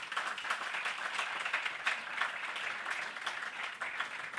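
A room full of people applauds Eduardo Bottinelli and Daniel Chasquetti at a consultation breakfast event, the clapping steady, dense and moderately loud throughout with no voices over it.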